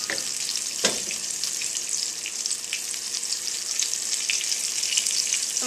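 White wine cooks in a hot pan, giving off a continuous bright sizzle and crackle with a few sharper pops, close and steady throughout.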